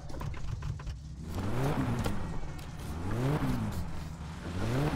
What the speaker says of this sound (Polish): Kurde, ale przyspieszenie teraz jest.